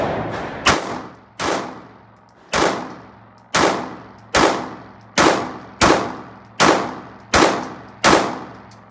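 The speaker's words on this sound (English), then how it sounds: "I went and shot 10 rounds of 9 with a Glock 45 to test these guys out." Glock 45 pistol firing 9mm rounds at a shooting range, ten sharp loud shots spaced roughly evenly, each followed by a short ringing decay.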